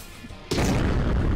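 Grenade launcher blast in Road Redemption, a sudden loud booming explosion that erupts after half a second of quieter game noise and rumbles on to the end.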